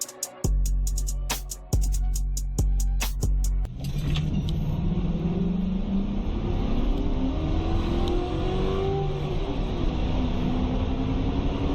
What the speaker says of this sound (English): here's a quick clip of it losing a drag race to a fully gutted Crown